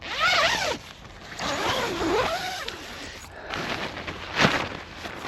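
Zipper pulled along the fabric flaps of a motorcycle tent, heard as a few bright rasping zips of varying length, close and fairly loud, with no talk.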